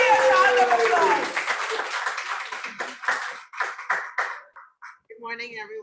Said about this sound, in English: round of applause, a Rotarian round of applause